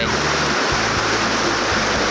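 Khok Phae waterfall on the Lam Takhong pours in a steady, dense roar of rushing water, close and continuous, with low rumbling throughout.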